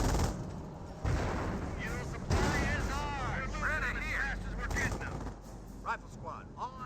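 A mortar half-track fires a barrage in the World War II strategy game Company of Heroes, with repeated booming launches and impacts under a commentator's running talk.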